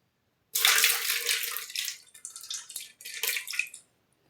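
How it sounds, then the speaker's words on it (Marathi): Water is drained from a bowl of onions: it pours and splashes in a steady stream for a few seconds, pausing briefly, then trickling and splashing again before stopping; no talking. "पाणी काढून टाकूया"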